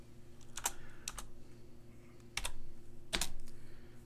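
Linux terminal command typed on a computer keyboard: a few separate bursts of close, crisp key clicks with quiet pauses between them and no talking.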